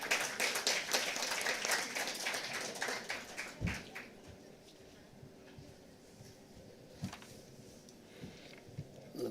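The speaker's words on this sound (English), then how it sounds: "A huge round of applause, ladies and gentlemen" An audience at a high-level energy conference dialogue applauds in a dense burst of clapping for about four seconds, then it thins to a few scattered claps against the quiet hum of the hall.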